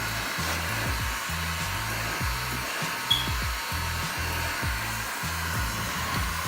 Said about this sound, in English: Call this post heating, where you're basically heating up the edges and the vinyl itself that you put down to kind of activate the adhesive